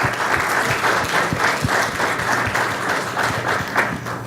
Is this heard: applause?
yes